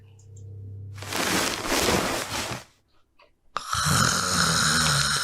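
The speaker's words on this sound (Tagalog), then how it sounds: "mahimbing pa rin natutulog at humihilik" Man deep asleep and snoring, with two long, loud, rasping snores separated by a brief quiet breath, close and filling the foreground over a low background hum.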